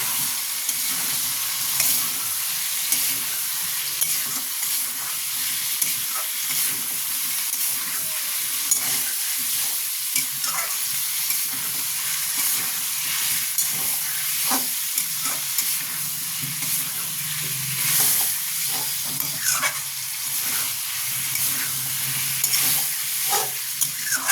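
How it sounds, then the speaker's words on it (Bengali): Chicken stew with potato, carrot, beans and papaya being sautéed in a pan, a constant loud sizzle and hiss with frequent spoon scrapes and stirring knocks throughout. "বিনস, পেঁপে দিয়ে কষবো।"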